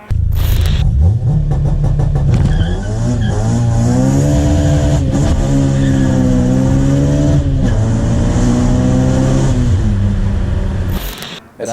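An EP3 Honda Civic Type R engine with stage 2 cams revs hard and high toward 9,000 rpm, climbing and holding a loud, screaming pitch for several seconds before cutting off abruptly.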